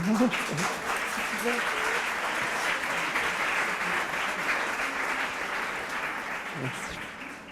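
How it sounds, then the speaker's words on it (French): Steady audience applause during an illustration master class, a continuous dense patter of clapping at moderate distance with voices talking briefly at the start and near the end. "c'est Sébastien qui applaudissent comme ça"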